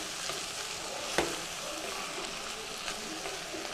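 Vegetables sautéing in oil and butter with chopped onion and garlic for Mumbai-style pav bhaji, a steady close sizzle with a spatula scraping and stirring through it, including one sharp clack.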